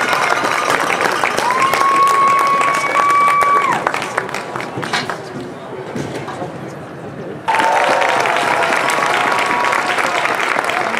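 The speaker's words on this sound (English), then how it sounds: "Let's have one more round of applause for these fine bands tonight." Loud, dense applause from a large crowd at a marching band festival fills the space, easing off briefly before surging back just as strongly.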